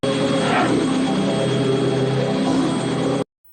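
Loud, steady mechanical roar of helicopter blades in a scene from the film Dawn of the Dead, filling the scene with constant whirring, then cutting off abruptly near the end.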